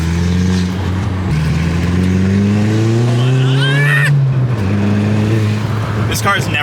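A Volkswagen MK4 GTI with a new front sway bar accelerates hard through a turn, the engine note climbing steadily from inside the cabin as tires briefly squeal near the end, with people talking over it.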